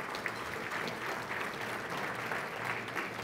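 An audience at a Texas congressional district address claps steadily in a room, a sustained even round of applause with no voices over it.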